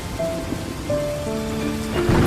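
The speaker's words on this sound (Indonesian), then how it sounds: "Hujan pun turun dengan derasnya dan diikuti dengan suara guntur dan kilatan petir." A heavy rain sound effect with thunder plays in a children's bedtime story: a steady, loud downpour hiss runs throughout beneath soft sustained musical tones, with no speech.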